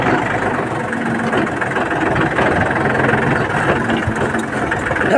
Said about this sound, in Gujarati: હવે મારી મૂકીએ ટ્રેક્ટર